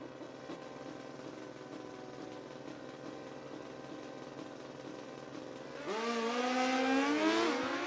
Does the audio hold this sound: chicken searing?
no